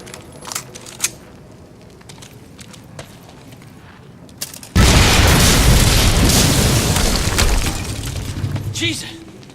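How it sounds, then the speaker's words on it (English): A loud explosion in the video game Quantum Break erupts about halfway through as a sudden broadband roar that keeps rumbling for several seconds, preceded by quieter game ambience and scattered clicks, with speech nearby. "HQ, we just heard an explosion near the harvesting perimeter."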